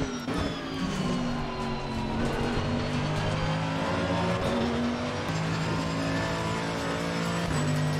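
A race car engine at Bathurst in the racing game Assetto Corsa Competizione, a loud steady high-revving drone with pitch rising and dropping through gear changes, continuous and close.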